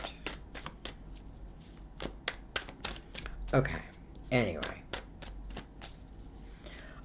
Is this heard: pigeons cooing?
no